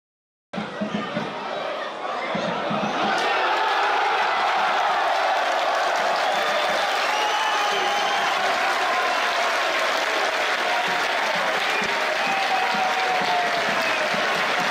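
Football fans in a stadium crowd roar and chant together at a goal, a dense, loud wall of voices with applause and whistles that swells after a brief start and holds steady throughout.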